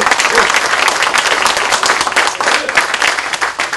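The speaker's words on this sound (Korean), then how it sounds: "여러분 뜨거운 박수 한번 더 쳐주십시오." A crowd of party members at a political caucus meeting breaks into dense, loud applause, steady clapping filling the few seconds up close.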